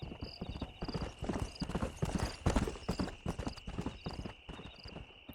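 Stallion hooves clip-clop in a quick, steady rhythm in the video game Red Dead Redemption, close and distinct over a faint background hum.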